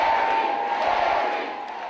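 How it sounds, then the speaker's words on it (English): An enthusiastic crowd cheers and shouts at a Barack Obama and Mary Burke rally in Milwaukee's North Division High School, a dense steady roar of many voices fading slightly at the end. "An enthusiastic and Democratic crowd welcomed President Barack Obama and Democratic candidate Mary Burke to Milwaukee's North Division High School."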